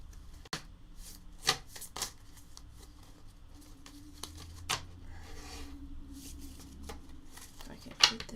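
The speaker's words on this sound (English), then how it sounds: "why are you shuffling like that?" A deck of cards being shuffled indoors during a live spiritual session, heard as soft, scattered riffles and taps with a few sharper snaps, quiet and intermittent over low room noise.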